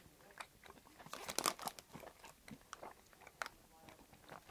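Chewy gummy snacks being bitten and chewed close up, with irregular crunchy, wet mastication bursts and a cluster of louder bites around the middle, no talking.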